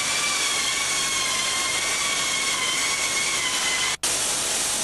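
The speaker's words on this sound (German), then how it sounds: "Sie laufen anschließend in die Schleiferei ein und werden manuell örtlich nachgeschliffen." Steady, loud abrasive whine of manual sanding on Trabant car bodies in a factory grinding shop, with a continuous industrial drone and a brief break near the end.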